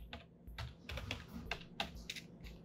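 Quick, uneven keystrokes tap out a short word on a computer keyboard at a Windows 11 PC, a handful of crisp, close clicks with no voices.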